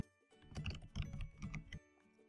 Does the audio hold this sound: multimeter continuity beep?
no